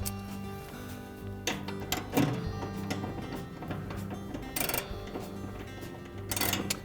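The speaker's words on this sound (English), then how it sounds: "And then tighten it with the ratchet." A ratchet tightening a shoulder bolt on the idler pulley bracket of a Whirlpool dryer: soft, irregular clicking and metallic handling, fairly close but quiet, with no talking.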